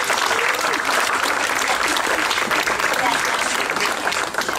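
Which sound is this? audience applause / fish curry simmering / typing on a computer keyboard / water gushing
audience applause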